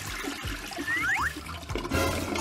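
A toilet flush from a Minecraft animation: a loud rushing gurgle of water with swirling, trickling detail that keeps going throughout.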